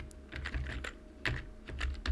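Close, quiet keystrokes on a computer keyboard in short irregular bursts of clicks, entering a web address into a Chrome browser, with no talk.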